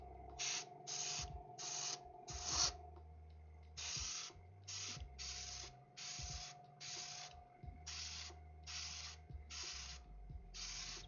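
Spray paint hisses onto a model horse in short, even bursts, about a dozen spaced through the stretch, over a steady low hum from nearby equipment.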